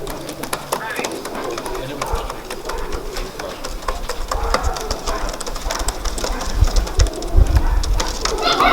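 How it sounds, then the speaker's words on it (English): Pigeons coo in a loft amid a noisy, busy background of rustling and engine-like rumble, while people talk over the birds. "Beautiful family of birds."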